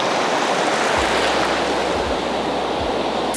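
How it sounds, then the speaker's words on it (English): Continuous roar of ocean surf at Kure Beach, North Carolina, on a cold January day, loud and broad with wind rumbling across the microphone and no voices. "So I'm at my favorite beach"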